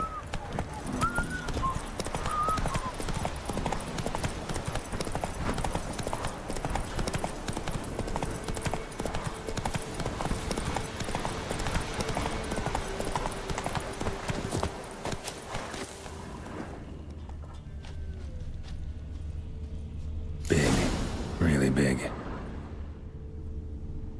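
A horse galloping in The Witcher 3, continuous rapid hoofbeats over game ambience that fade out toward the end, with voices in the game and a short louder burst near the close.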